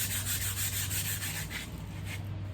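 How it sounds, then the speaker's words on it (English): Sandpaper rubbed by hand over an old oil-stained surface, repeated back-and-forth scratchy strokes, close and steady over a low background hum. "and I'm just going to sand it"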